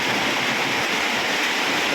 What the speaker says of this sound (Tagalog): Ang lakas talaga ng ulan guys